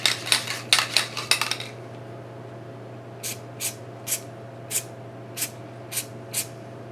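3M Super Yellow aerosol contact adhesive sprays in a rapid cluster of short hissing bursts, then after a pause in a slower series of evenly spaced brief sprays, close up over a steady low hum.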